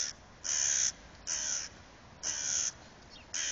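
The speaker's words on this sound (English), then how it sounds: "there's a crow" A crow caws four times while attacking a cat outdoors, each harsh call distinct and fairly close, spaced evenly with quiet gaps between them and no talking.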